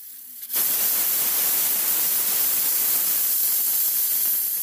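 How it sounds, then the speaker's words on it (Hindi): Cumin seeds dropped into hot oil for Indian dal fry burst into a loud, steady, close sizzle that starts suddenly and keeps hissing evenly with no break. "ये मैंने तेल डाल दिया है, और अब मैं डालूंगी इसमें जीरा"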